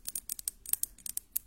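Metal object handled close up during an ASMR ear test, producing rapid, crisp snipping clicks in quick irregular succession, delicate and quiet with no voice.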